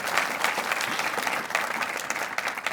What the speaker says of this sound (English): give yourselves a round of applause for handling that beautifully